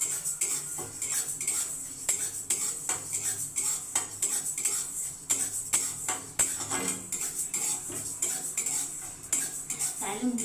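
Masoor lentils being dry-heated in a wok, with repeated sharp scrapes and clinks of a metal spatula against the pan in an irregular rhythm, close and fairly loud, with no talking.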